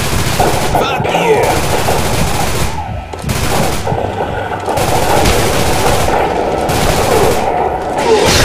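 Kimbo Uzi gunfire in a co-op shooter game set in Steel Town, loud rapid bursts of automatic fire rattling almost without pause, broken by brief gaps, with voices talking over it.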